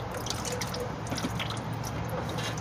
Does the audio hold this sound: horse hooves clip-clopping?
no